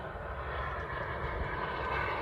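An RC airplane at an outdoor show passes overhead as a moderate, steady engine drone that swells slightly toward the end, with no talking.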